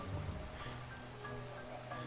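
Rain falls steadily in the Minecraft video game, a soft continuous hiss of drops filling the background at low volume, with faint tonal game sounds scattered through it.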